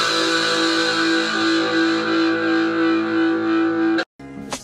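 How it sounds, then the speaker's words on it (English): Electric guitar played through a distortion effect, a sustained gritty chord ringing loud and alone for about four seconds before cutting off, followed by a brief second strum. "The second one is distortion, which is generally associated with grunge and heavy metal."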